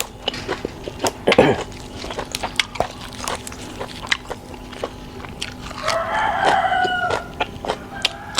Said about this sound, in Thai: เสียงไก่ขันน้ำนำนะครับพี่น้อง